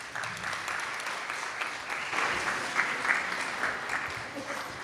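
Audience applause after a devotional class on Lord Balaram at a Balaram Jayanti gathering, a steady wash of clapping for about five seconds with voices mixed in.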